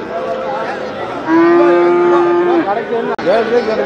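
Cattle at the Punjai Puliampatti cattle market give a loud, close, sustained moo lasting over a second, amid market crowd noise and nearby voices.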